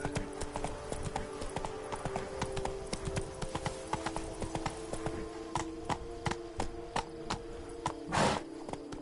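Hooves of Roach the horse galloping in The Witcher 3 Blood and Wine, a rapid steady clip-clop rhythm lasting several seconds, close and clear, with a brief louder burst near the end.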